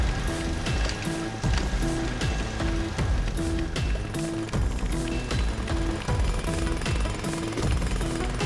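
Jackhammers pound in a fast, steady rhythm in the LEGO The Movie video game, a loud, repetitive mechanical hammering with no talk.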